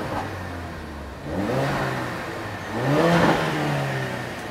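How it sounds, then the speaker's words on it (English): Police car engine with its exhaust system revs twice in quick blips, rising and falling, heard close over a steady idle with no talking. "go rev that one quickly"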